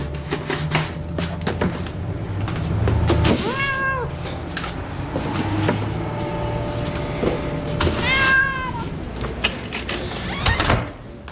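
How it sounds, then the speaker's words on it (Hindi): A cat meows several times with drawn-out, rising and falling cries, set against mechanical clatter, knocks and a steady background hum. "इधर आओ शैतान बिल्ली।"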